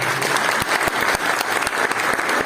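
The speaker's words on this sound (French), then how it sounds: "sous vos applaudissements, s'il vous plaît." Applause from a seminar audience welcoming a guest speaker, dense steady clapping with some sharper individual claps standing out, sustained and fairly loud throughout.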